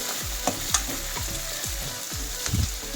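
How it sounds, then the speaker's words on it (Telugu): Drumsticks and curry leaves fry in hot oil in a pan, giving a steady sizzle broken by several sharp stirring scrapes and clatters at an even pace, close and fairly loud. "మునక్కాయలు అలాగే కరివేపాకు ఇవన్నీ వేసి ఒకసారి ఫ్రై చేసుకుందాం"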